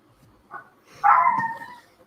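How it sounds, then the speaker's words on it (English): A pet dog near a lakeside pier gives a small yip, then one fuller bark that trails off, at moderate distance under a quiet background. "And then my dog's going to bark."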